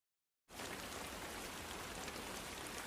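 Steady rain pours down over a cartoon village, a dense, even hiss that starts abruptly after a moment of silence and keeps going at a constant, moderately quiet level.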